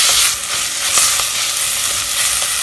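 Boiled chana, rice and salt are stirred together in a hot pan with cooked methi and tomatoes, giving a continuous loud sizzle broken by quick scraping stirs, close up and without any talking.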